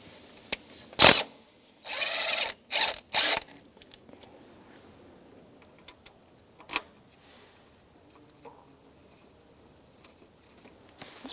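A wrench torques timing belt tensioner bolts on a 2004-2009 Subaru Outback, giving a few sharp close clicks and short ratcheting rasps followed by scattered faint ticks and handling noises.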